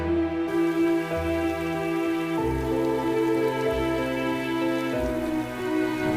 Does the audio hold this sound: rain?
yes